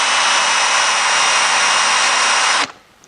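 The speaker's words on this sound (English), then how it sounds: "I'm taking a 1/4 inch drill bit and making my center." A power drill with a 1/4 inch bit bores a centre hole in a 2010 Prowler UTV back windshield, giving a steady, close, high whine that runs alone for over two seconds and then cuts off abruptly.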